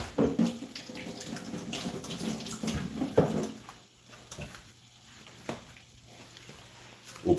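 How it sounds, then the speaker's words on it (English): Tap water runs and splashes as a kitchen utensil is rinsed under the faucet, with clattering handling sounds up close, then the flow quiets to softer trickles and drips. "Nevertheless, I'm going to give this a little rinse."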